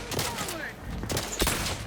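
Hip-fired gunfire in The Outer Worlds 2, with a few loud bursts of shots in quick succession over a busy, noisy combat backdrop, close and punchy.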